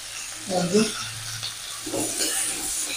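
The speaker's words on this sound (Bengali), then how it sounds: "আমি এই ফুলকপিটা একটু ভালো করে ভেজে নেব।" Cauliflower frying in a pan gives a soft sizzle underneath, with stirring scrapes and a few clattering bursts at close range; no speech is heard.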